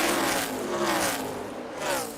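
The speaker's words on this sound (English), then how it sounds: "You could hear Eric have to get out of the throttle there" NASCAR Xfinity Series race car at Kentucky, its engine note dropping as the driver of the 20 car lifts off the throttle in a three-car battle, a loud continuous roar with falling harmonics and other cars close by.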